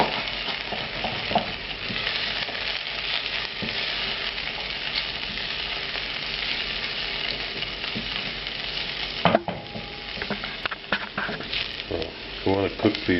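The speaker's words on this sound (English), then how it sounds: "Now I'm going to add dried apricots to the pan." Dried apricots hitting hot fat in a pan with browning shallots, a continuous dense sizzle with stirring, then sharper clatters and scrapes of a utensil against the pan toward the end.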